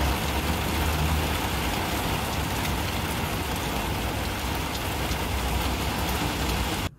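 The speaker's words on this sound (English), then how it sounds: "it is raining outside" Steady rain falls outside, a dense continuous patter with a low rumble beneath, unbroken from start to finish.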